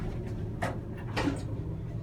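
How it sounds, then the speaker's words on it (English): Door of a vintage Otis traction elevator in a university building sliding in operation, two short rumbling sweeps about half a second apart, close and moderately loud. "here goes the door."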